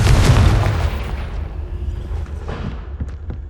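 Spell blast from the Confringo fire curse in Hogwarts Legacy, a loud booming burst at the start that decays into a rumbling tail with scattered crackles.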